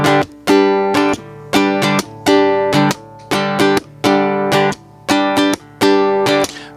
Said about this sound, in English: we're going to hit the fretboard hard enough for it to make a sound like this.